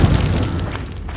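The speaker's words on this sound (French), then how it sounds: "Explose." A loud, booming explosion in the video game Resident Evil 4, with a dense low rumble filling the whole moment and decaying slowly, no speech over it.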